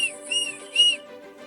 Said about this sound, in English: If you see us waving the red flag with a long whistle like this